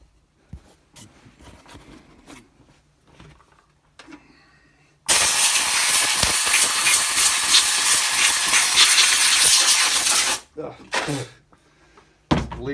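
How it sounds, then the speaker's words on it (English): Compressed air blasts a Stihl MS201TC chainsaw clean in one loud, steady hiss lasting about five seconds, with quiet handling noises and someone talking before and after. "just a little bit of compressed air goes a long way"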